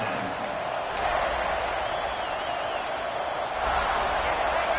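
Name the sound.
stadium crowd noise in the CFB26 football video game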